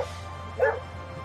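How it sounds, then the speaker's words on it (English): A small dog gives a single short, sharp bark, close and fairly loud, over a steady low background hum. "Looks like a rat, barks like a demon."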